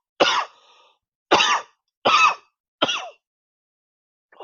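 A voice imitates a drowning man coughing and gagging up water, with four short, harsh, wet hacking bursts in an uneven rhythm, loud and close with silence between them.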